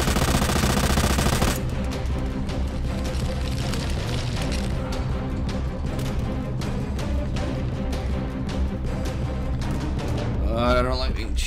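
Gunfire in Resident Evil 2 during Hunk gameplay: rapid, loud bursts of shots crackle almost continuously after a harsh opening blast, and a voice-like wail rises near the end.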